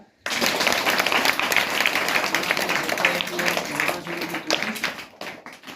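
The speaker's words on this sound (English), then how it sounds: "Have a clap." Students clap loudly and steadily after a Chandrayaan 3 model launch at a school National Space Day event, dense applause filling the room under cheering voices before tapering off at the end.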